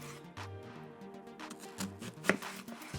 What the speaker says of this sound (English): You're gonna make little slices like this, and you're not gonna cut all the way through.